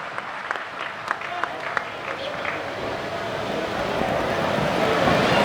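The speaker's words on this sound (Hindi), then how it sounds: "जोरदार तालियों से आमंत्रण दें संजय शुक्ला जी आपके मध्य" An audience at a Hindi comic poetry gathering breaks into applause to welcome the next poet, the clapping building steadily and growing louder to the end.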